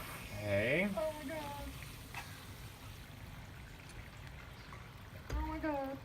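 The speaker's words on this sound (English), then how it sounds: "Now we're going to throw this and put some water in here." Water pouring into newly installed plumbing in a shuttle bus conversion, a soft trickling stream heard faintly and close under excited voices talking at the start and end.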